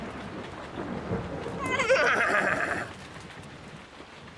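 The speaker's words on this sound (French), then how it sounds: "Paquita est effrayé par l'orage, et Caramel aussi" In a children's cartoon set on a farm, a thunderstorm rumbles under steady rain while a frightened horse lets out a loud whinny midway, with no speech.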